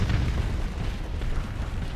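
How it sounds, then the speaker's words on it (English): Big bombs blast and rumble in the Starsector space game, a dense, continuous low roar of heavy explosions with no pauses. "Big bombs coming down."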